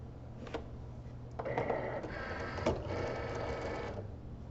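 A Cricut cutting machine draws in a sheet of white printable sticker paper, giving a low steady motor hum with a few soft mechanical clicks and whirring bursts of feed rollers close by, no talking.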